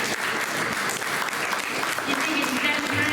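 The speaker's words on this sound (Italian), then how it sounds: "Un applauso a Calvino" An audience at a poetry gathering bursts into sustained applause for a poet, a dense wash of clapping that stays steady throughout, with voices faintly mixed in.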